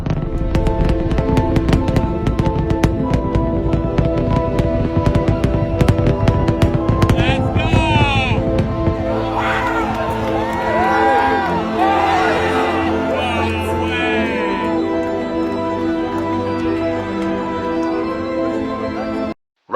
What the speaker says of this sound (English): Rocket launching from Australia